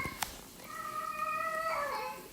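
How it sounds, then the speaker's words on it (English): A female cat in heat named Salem lets out a drawn-out, wavering meow, moderately close and fairly loud, with a faint click near the start and no talking. "I've got a cat in heat, unfortunately, so if you hear,"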